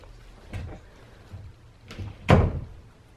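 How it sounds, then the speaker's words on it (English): A door swings shut indoors with a few soft knocks and bumps before ending in one solid, thudding close. It is heard alone at moderate volume, without any voices. "Can I close the door?"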